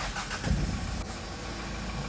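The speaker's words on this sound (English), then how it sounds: "Engine is on." A 2005 Hyundai Porter freezer truck with a diesel engine and manual gearbox cranks and catches, then settles into a steady, rumbling idle close by.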